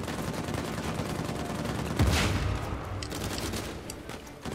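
Dense gunfire in the video game Uncharted 4: a sustained, loud fusillade of rapid shots with a heavier burst near the middle, continuous throughout and without talking.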